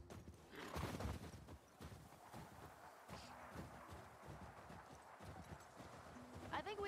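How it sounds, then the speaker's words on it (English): Horse hooves clip-clop in a video game with a brief whinny and busy game sounds, while people talk over the action. "Don't hurt the horsey!"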